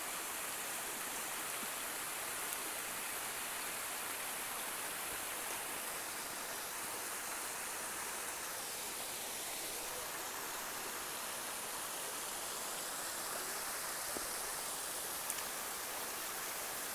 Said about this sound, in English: Amazing waterfall.